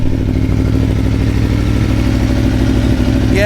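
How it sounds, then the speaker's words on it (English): Steady, rumbling engines of an Aprilia Tuono and a Ducati V4 S motorcycle idling warm close by, with a throbbing low pulse and light mechanical clatter, no voices. "Both bikes are warm. Both bikes are just running at idle."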